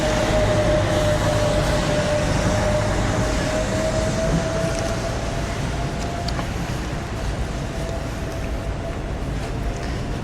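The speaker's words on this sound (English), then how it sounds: "It's a train." A train rumbles past loudly and continuously on rainy West 34th Street in Manhattan near Madison Square Garden, with heavy low rumble and a faint steady whine throughout, no talking.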